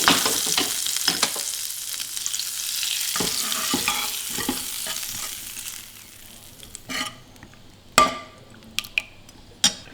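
Hot tempering hisses and sizzles as it goes into hesheru bele and dill lentil saaru, fading into quieter stirring with spoon clinks and scrapes against the pot, close by and without talk.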